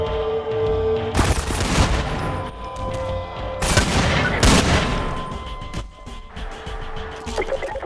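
Desert Eagle pistol shots in a first-person shooter game, several loud, sharp blasts arriving in separate bursts with ringing tails and background game noise between them.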